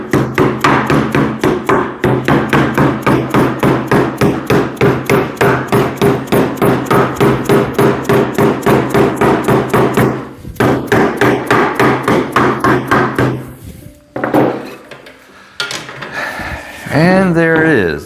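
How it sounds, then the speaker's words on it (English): A spline is hammered into the cane seat of an old rocking chair with rapid, even, sharp taps close by for about ten seconds, then a few scattered knocks, with a voice speaking near the end. "And just finish tapping that in."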